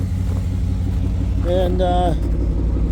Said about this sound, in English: Firebird, she fired right up.